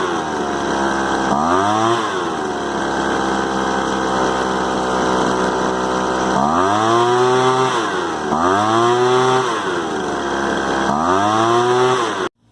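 A Craftsman 200mph gas leaf blower's small two-stroke engine runs rough, droning loudly and repeatedly revving up and bogging down in uneven surges before cutting off at the end.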